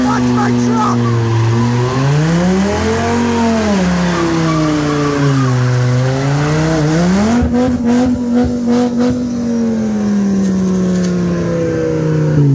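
A truck does a neutral drop stunt, its engine revving hard in rising and falling surges with tire squeal at the end. Loud and close throughout, with voices over it.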